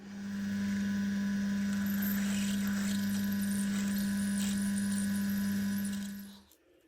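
A mill drills an 8.5mm hole half an inch deep for an M10 thread, giving a steady, close, high motor whine with a constant machining hiss that winds down at the end.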